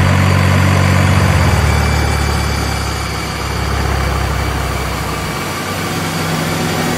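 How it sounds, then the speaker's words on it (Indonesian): A heavy truck engine idles nearby with a deep, steady rumble that dips slightly midway and continues evenly to the end. "Aku mendengar ada suara mesin truk."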